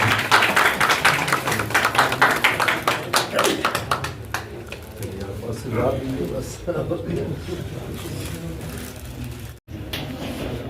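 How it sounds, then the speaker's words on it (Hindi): A crowd of NDA party workers claps in a burst of dense applause welcoming the Panchayati Raj minister in Sultanganj, Bhagalpur, gradually thinning out, with a voice speaking over it. "जोरदार तालियों से स्वागत।"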